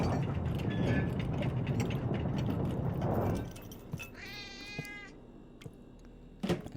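A cat meows in The Operator video game, set in a cheap apartment by busy train tracks. Several clear, drawn-out meows come after a stretch of loud low rumble, with a faint short sound near the end.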